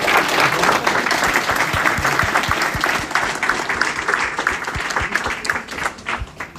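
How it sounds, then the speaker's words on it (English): A packed room at a mayoral candidate forum breaks into applause, loud close clapping with distinct individual claps that thins out toward the end. "Let's give them all a round of applause."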